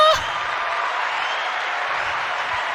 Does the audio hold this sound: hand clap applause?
yes